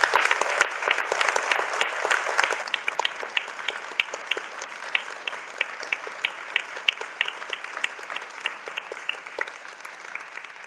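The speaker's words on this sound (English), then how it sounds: "Let's give another round of applause." Sustained audience applause at a Water Week lunch-and-learn event, a steady field of many hands clapping that starts full and gradually thins over about ten seconds, with no voices over it.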